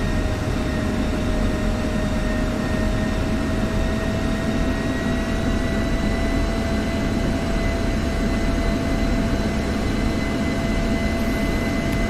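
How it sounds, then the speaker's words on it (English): An F-16 Viper jet taxiing in DCS World, its engine holding a loud, steady whine with a sustained high tone over a constant low rumble, heard alone throughout. "So we're going to taxi to the west"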